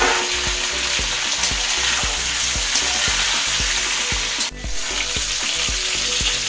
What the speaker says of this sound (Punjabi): ਆਲੂ ਵੀ ਆਪਾਂ ਇਹਦੇ ਨਾਲ ਹੀ ਫਰਾਈ ਕਰ ਲਾਂਗੇ